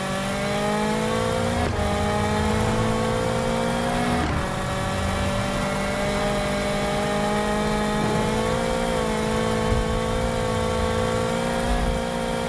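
A racing car engine in the video game Extreme Car Stunts 3D drones steadily and loud for the whole stretch, its pitch bending up and down with brief dips, with no talking over it.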